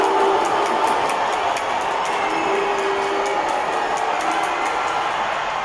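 Basketball arena crowd at a TNT versus Ginebra finals Game 6, a loud sustained roar of yelling and cheering filling the space, with whistles or sharp squeaks poking through.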